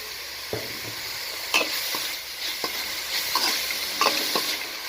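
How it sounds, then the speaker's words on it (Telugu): Broccoli is stir-fried in a pan, its sizzle broken by irregular scrapes and clacks of a spatula tossing the pieces. The sound is close and moderately loud, with no talking. "ఇది బాగా ఒక 2 minutes బాగా ఫ్రై చేసుకోవాలి"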